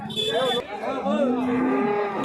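A cow at the Chintamani cattle market lets out a long, loud, close moo that carries through most of the moment, with faint market background around it.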